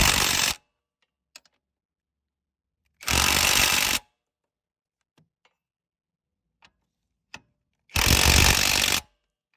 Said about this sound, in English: So that's why I'm using the impact driver.